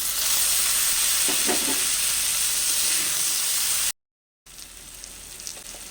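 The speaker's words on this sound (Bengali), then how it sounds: "পেঁয়াজগুলো ভাজা হয়ে গেছে এবার আমি ওর মধ্যে টমেটো দিয়ে দিচ্ছি" Chopped tomato hitting well-browned onions in a hot pan sets off a steady, loud sizzle with faint stirring scrapes, running continuously before a brief silent gap and a quieter return.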